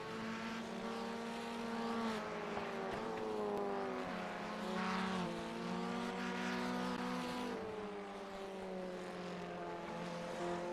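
A Formula 1600 race car engine in a racing sim at Oschersleben holds a steady, loud, buzzing drone. Its pitch rises and dips slightly through gear changes, and there is no talk over it.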